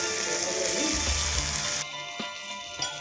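Mustard seeds, cumin and chilies frying in a pan, a loud hissing sizzle that drops off sharply partway through, followed by a few sharp crackles and pops.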